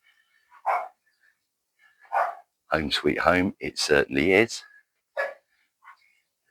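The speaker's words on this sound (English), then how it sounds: "Excuse the little doggy barking, that'll disappear when we get onto the inside." A small dog at a house for sale in Spain barks in a few short, sharp yaps spread through the clip, while a person speaks briefly in the middle.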